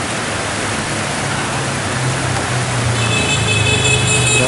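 Heavy rain pours steadily over the town centre of Quản Bạ in Hà Giang, a dense, loud, unbroken wash of falling water and runoff with no voices.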